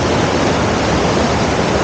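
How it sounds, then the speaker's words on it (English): Waterfalls at Killin, Scotland rush in a loud, close, unbroken roar of falling water, a dense steady wash with no other sounds. "So the waterfalls here in Killin, they look fantastic."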